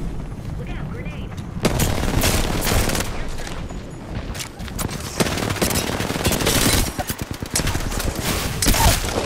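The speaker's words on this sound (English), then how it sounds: "Look out, grenade." Gunfire and an exploding grenade in the video game Apex Legends, with rapid automatic bursts and sharp shots crowding together, heavy impacts, and a player talking over the action.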